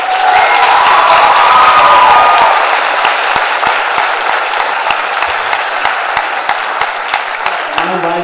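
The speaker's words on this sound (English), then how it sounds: "So, will you clap a little louder," Audience at a school winter choir concert breaking into loud applause with cheers, then thinning to scattered claps that fade over the final seconds.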